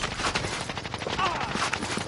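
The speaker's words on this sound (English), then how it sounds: "Someone else is shooting." A burst of rapid gunfire from a Kilo rifle in a video game shooter, crackling and fairly quiet, as a steady run of shots lasting about two seconds.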